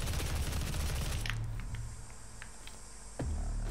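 Heavy gun fire in the video game DOOM SnapMap, a dense burst of loud gunfire that drops to sparser shots and blasts before another burst near the end.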